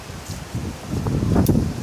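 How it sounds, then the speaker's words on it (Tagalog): Strong wind sweeps through a tree by a house where a street solar light is being mounted. The leaves rustle in a brief, breathy rush that swells louder toward the end. "Lakas ng hangin, no?"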